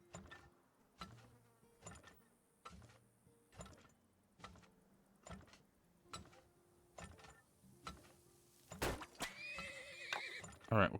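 A horse in a video game neighs, with rhythmic clip-clop hoofbeats and buzzing insect-like tones repeating steadily, ending in a louder whinny burst near the end; faint overall.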